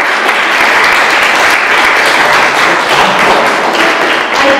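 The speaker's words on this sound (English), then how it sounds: "Now, please give yourselves a round of applause." A crowd of volunteers, partners and clients at the Yellow Springs Home, Inc. annual meeting claps loudly and continuously, a thick wash of applause close by with no speech over it.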